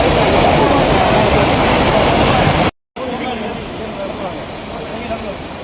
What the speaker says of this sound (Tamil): அங்கே பாருங்கள் எப்படி அருவி கொட்டுதுன்னு